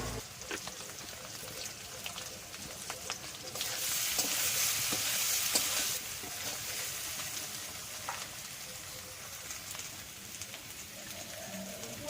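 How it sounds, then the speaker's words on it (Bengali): Turmeric-coated potatoes fry in a pan with a steady, dense sizzle like rain on a surface that swells louder for a couple of seconds midway, with scattered scrape and stir clicks and no talking. "আলুটা লাল করে ভাজা হয়ে গেছে"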